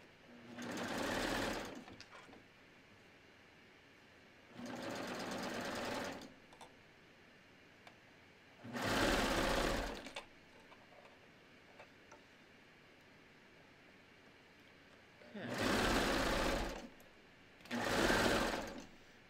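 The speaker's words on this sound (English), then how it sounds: "I'm going to sew my front armhole now" A sewing machine stitches the front armhole of a tee in five separate bursts of steady rapid whirring, each lasting about one to two seconds, with quiet pauses between them, heard up close.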